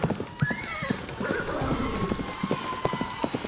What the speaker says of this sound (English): Now it's time for us to gallop on our horses.